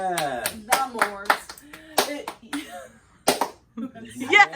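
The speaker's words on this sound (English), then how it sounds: "That was an Ashel slow clap for you." Slow clap from one person, single claps in a steady unhurried rhythm mixed with people talking over them.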